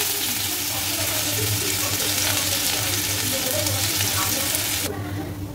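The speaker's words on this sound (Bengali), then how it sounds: "কড়াইতে তেল দিয়ে দিয়েছি। এখন হচ্ছে যে রসুনগুলো আছে সেই রসুন কুচিগুলো দিয়ে দেবো।" Chopped garlic frying in oil in a wok gives a steady, loud sizzle that runs unbroken for several seconds, with a low hum beneath, until the high hiss drops off sharply near the end.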